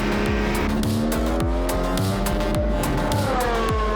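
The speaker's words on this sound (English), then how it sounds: "With his times improving lap by lap, Kurtz gives it all he's got in his final run around the circuit." Race car driven flat out around a circuit with an Abbey corner, engine repeatedly revving up and dropping as gears change, tires squealing, loud and close throughout.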